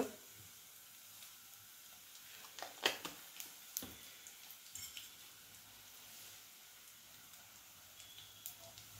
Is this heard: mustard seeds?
yes